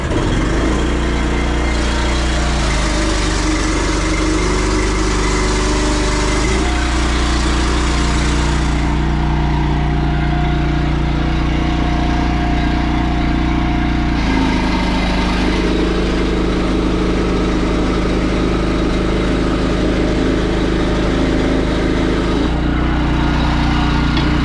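A farm tractor engine runs at a steady idle while readied for planting, a loud continuous motor drone that shifts slightly in pitch a few times across the stretch.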